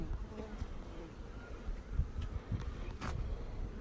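A package of bees being installed in a hive outdoors, with a constant low buzz of many bees nearby and a few faint knocks and rustles on top.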